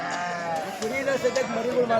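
Sheep and lambs bleat at a weekly village livestock market selling native cattle and sheep, with wavering calls repeating over steady crowd chatter and people talking nearby.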